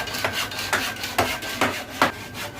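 A hand saw cuts through wood in five regular rasping strokes, each a loud scrape with short pauses between. The sawing is close and heard alone, with no talking.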